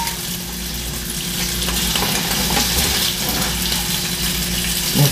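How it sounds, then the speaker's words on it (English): Bacon fries in a pan as part of a cheese and broccoli soup, giving a steady, close crackling sizzle with faint stirring that holds even throughout, with no talking. "Let the bacon cook."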